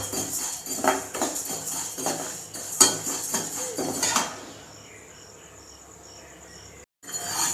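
Moong dal dry-roasting in a pan for Thiruvathirai kali, with close scraping stirring strokes for about four seconds before fading to a faint steady hum, no voices.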